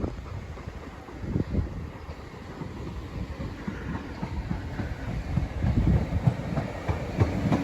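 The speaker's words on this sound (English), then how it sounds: "now approaching is the 1228 Southeastern service from Ramsgate to London and Pancras International" A Southeastern passenger service from Ramsgate to London St Pancras passes at a station in Deal, a rising rumble with wheel clatter and wind buffeting that grows louder toward the end.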